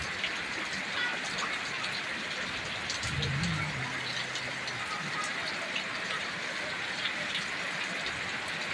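Heavy, steady rain falls in Palitana with light wind, a constant dense hiss of drops that continues evenly throughout.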